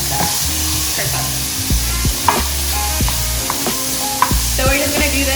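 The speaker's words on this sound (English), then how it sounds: "So we're just gonna do this until your sausage is starting to get brown." Sausage sizzles and browns in a pan with a steady loud frying hiss, while a spoon or spatula repeatedly scrapes and stirs it through the hiss.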